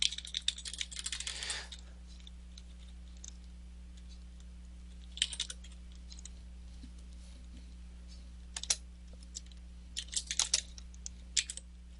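Computer keyboard typing in a quiet room, a short burst of keystrokes followed by scattered clusters of clicks over a steady low hum, near and soft with no talking.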